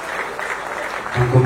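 A crowd at an Odia jatra stage show breaks into applause, a dense clatter of clapping under an announcer's amplified voice, swelling louder toward the end.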